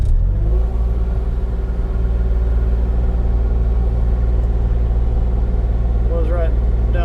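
A Kubota utility vehicle drives out toward a ranch on a windy day, its engine giving a loud, steady low rumble close by, with a brief whistling tone near the end.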